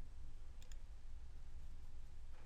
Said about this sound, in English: I also have the option to save the job by clicking on the save icon.